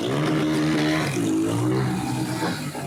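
Car sound systems and stunting motorcycles at a crowded street party in a city neighborhood, a loud revving engine whine rising and falling over a dense wash of noise.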